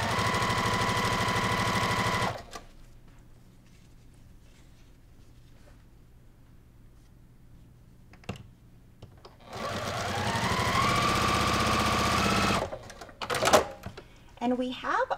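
A sewing machine chain-pieces the last row of a quilt made from mini charm packs and layer cakes, running in two loud sustained bursts with a quiet pause between and a few clicks and handling noises at the end.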